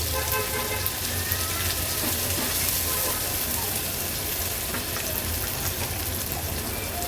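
Onion and green chillies sautéing over low flame in a mustard-cumin tempering, a continuous dense crackling sizzle with scattered pops, close and fairly loud throughout.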